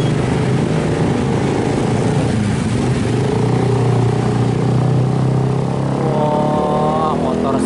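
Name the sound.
motorcycles passing on a road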